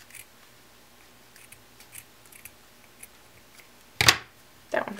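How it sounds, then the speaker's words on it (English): Scissors snip through folded ribbon in two distinct close cuts near the end, after a stretch of faint rustling and small handling clicks. "fold your ribbon, and the 2 outer pieces fold backwards, and then you're going to cut towards those last 2 points"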